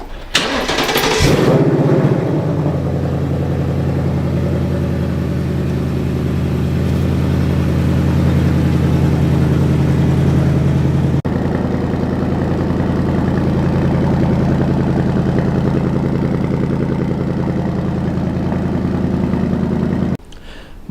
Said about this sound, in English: Let's do a little cold start